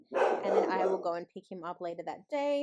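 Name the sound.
dog barking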